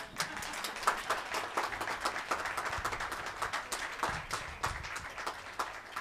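Audience applause at an international award night, steady moderate clapping from a crowd lasting about six seconds, heard from some distance with no talking over it.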